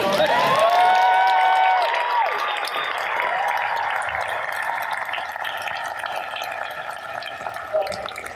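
Audience at a San Diego Comic-Con 2019 cartoon voices panel cheering and applauding, with loud whistles at first, then a sustained crowd roar and clapping that gradually eases.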